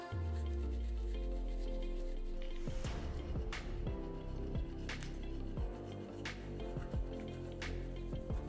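Toothbrush scrubbing teeth with gentle pressure at an angle, a continuous close wet rubbing and brushing with repeated short strokes throughout, no talking.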